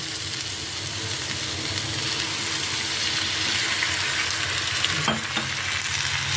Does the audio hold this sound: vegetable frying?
yes